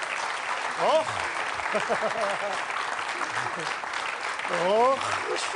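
A studio audience at a TV game show applauds in a steady, mid-level patter while a presenter talks over it.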